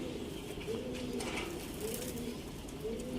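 Teddy pigeons cooing steadily, with low, rolling coos repeating throughout against a continuous background hum from a pigeon loft setting.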